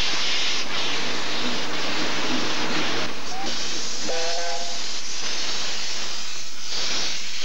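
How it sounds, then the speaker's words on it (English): Steam locomotive from the original Welsh Highland Railway, built in 1906, giving loud continuous hissing steam with brief whistle tones in the middle of the stretch. "This is the sole surviving locomotive from the original Welsh Highland Railway, built in 1906,"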